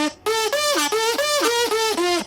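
Vuvuzela-like brass drone widened by a Dimension Expander stereo plugin, sounding as a rhythmic series of six loud, bright blasts with falling pitch bends, alone and upfront in the mix.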